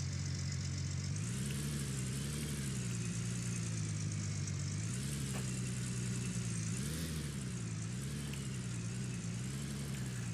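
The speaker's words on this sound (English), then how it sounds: "So again, go to start the truck" Steady engine of a truck idling in the mining game Gold Rush, a continuous low hum with slight rises and dips in pitch, heard alone at moderate volume.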